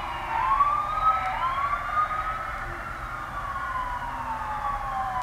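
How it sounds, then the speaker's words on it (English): An ambulance siren wails, rising and falling steadily over low traffic rumble, moderately distant, sounding continuously throughout. "There's an ambulance too."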